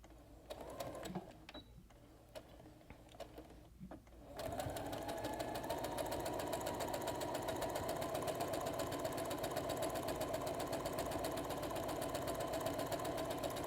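Sewing machine running a backstitch on multicolored fabric for a headband: a few short stop-start bursts, then a steady fast mechanical whir that runs on without pause, close by.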